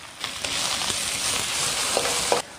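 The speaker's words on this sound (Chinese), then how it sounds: "锅内少许油，下莴笋先煸炒一下" Celtuce (stem lettuce) stir-fries in a little oil in a wok, a steady close sizzle broken by a few scraping clicks of stirring, with no talking.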